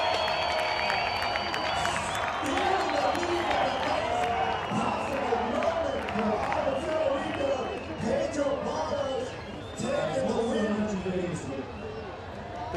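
A large crowd cheers and claps at a Vans Park Series skateboarding contest in Floripa, Brazil. The roar is loud and continuous, with shouts rising over steady applause and voices mixed throughout.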